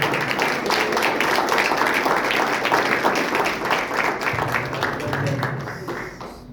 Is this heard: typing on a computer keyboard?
no